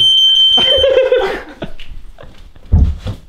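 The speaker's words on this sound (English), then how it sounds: "I've only gone and set the smoke alarms off with my backflips." A household smoke alarm shrills in a steady high tone for about a second and a half, then cuts out, followed by thumps and a loud burst of noise nearby.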